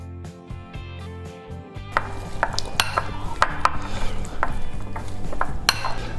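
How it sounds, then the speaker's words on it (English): A spoon clinks and scrapes against a bowl while stuffed mushroom filling with parmesan and chopped bacon is mixed. A low hum runs under the first two seconds, then uneven, close clattering strokes continue. "Then we're going to go ahead and mix all this together."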